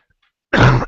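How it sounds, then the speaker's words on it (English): After a brief silence, one short, rough cough or throat clear bursts out close to the microphone, followed by a quick second catch of breath. "Last cough."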